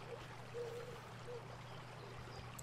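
River water flowing as a storytelling sound effect, a faint, soft trickling stream with a low steady hum beneath, gentle and continuous.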